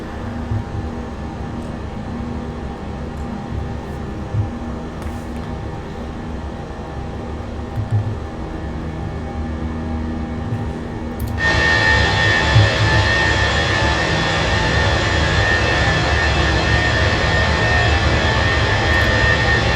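Airbus A320 jet engines roar steadily in cruise-climb inside a flight simulator, a continuous loud drone that abruptly brightens and grows louder with a sharp whine partway through, no talking.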